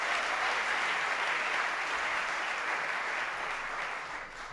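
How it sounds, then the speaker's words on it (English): An audience at a community candidate assembly claps their hands, a dense continuous wash of applause from a large crowd that holds steady and thins slightly near the end. "clap your hands in this house"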